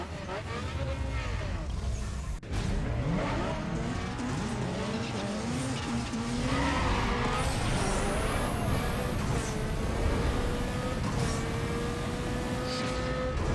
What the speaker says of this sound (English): So let's quickly go and do a drag race.